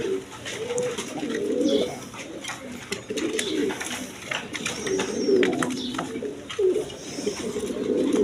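Pigeons of mixed breeds, a pair offered for sale, coo steadily in repeated low rolling calls close by, with faint chirps and a little background noise.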